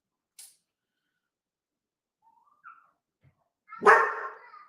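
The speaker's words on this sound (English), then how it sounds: "Oh, there's the dog." A household dog lets out a single loud, close bark near the end, following a few faint scattered household noises and near silence.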